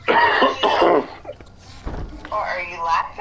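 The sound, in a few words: person coughing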